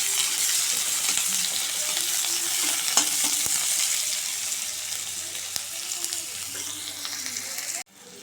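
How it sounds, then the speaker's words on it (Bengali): Onion sizzling as it fries in hot oil in a wok, with a steady bright crackle and occasional stirring scrapes, close and continuous before cutting off abruptly near the end. "পেঁয়াজটা একটু ভাজা ভাজা করে নেব।"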